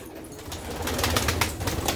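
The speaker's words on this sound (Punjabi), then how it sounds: "ਇੱਕੋ ਹੀ ਜਿਹੇ ਸਾਰੇ ਕਾਲੀਆਂ ਅੱਖਾਂ ਦੇ ਕਬੂਤਰ ਨੇ" Black-eyed pigeons in a village fancier's loft, with low murmuring coos and bursts of wing flapping close by, over a continuous rustling background.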